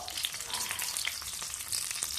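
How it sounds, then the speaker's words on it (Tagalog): Meat sizzles and spatters steadily in a hot frying pan, a dense close crackle with occasional sharper pops and a faint stir, no voices. "Iprito naman natin yung ating karne"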